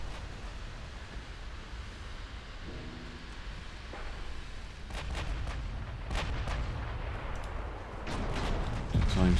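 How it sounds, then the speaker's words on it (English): Explosions from a 40mm gun battery in a naval war video game: a low rumbling backdrop with several sharp blasts in the second half, the loudest near the end. "Explosion in a 40mm battery."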